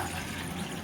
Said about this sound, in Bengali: পানিটা দিয়ে আমি একটু গরম করে নেব।